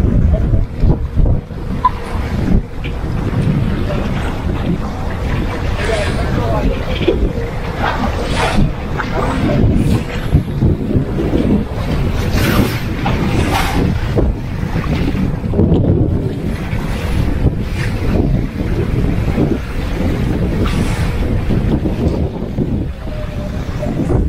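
A catamaran sails on the open sea, with steady wind buffeting the microphone, water rushing and splashing against the hull, and occasional faint voices in the background.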